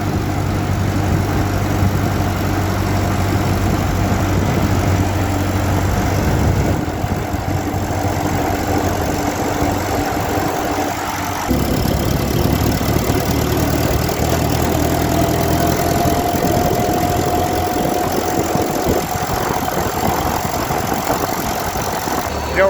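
Ford 8N tractor engine running steadily at idle, a continuous low mechanical drone with a loud, even level throughout and slight shifts in tone partway through.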